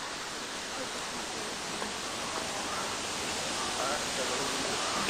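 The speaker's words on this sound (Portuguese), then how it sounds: "E passando essa cachoeirinha temos um terceiro lago." Water from a small waterfall pours into a lake in a hilly landscape, a steady broadband rush that stays even and close throughout with no other sounds.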